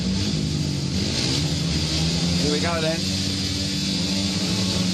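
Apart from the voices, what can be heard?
speedway motorcycle engines revving at the start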